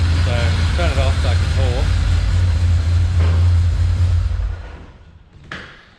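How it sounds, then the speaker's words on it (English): Turbocharged V6 engine idling steadily and loud with a slight misfire, a voice speaking briefly over it early on, then the engine cuts off and winds down near the end, followed by a short knock. "there's definitely a little miss there that I can hear"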